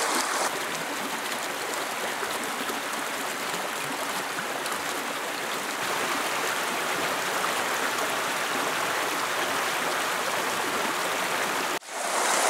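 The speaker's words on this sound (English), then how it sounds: "we've got this beautiful, beautiful little really picturesque waterfall right here" A small, picturesque waterfall on a river in Okinawa pours in a steady, close, full rush of water that continues evenly throughout, with no voices over it.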